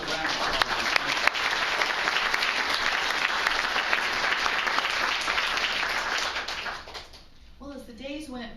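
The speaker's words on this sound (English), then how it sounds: "Another round of applause." An audience at a storytelling event claps steadily and warmly for several seconds, the applause tapering off near the end as a voice begins speaking.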